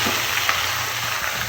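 Bottle gourd (lau) frying in a pan gives off a steady, even sizzle and hiss that runs unbroken, close by, with no talking.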